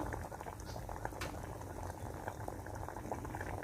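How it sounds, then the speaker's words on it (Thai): Fermented fish dip (pla ra lon) simmering with coconut milk in a pot, giving a steady, close bubbling boil with dense popping and gurgling throughout, heard alone without talk. "เสียงดี เดือดโอ๊กโอ๊กโอ๊กโอ๊กเลยพี่น้อง"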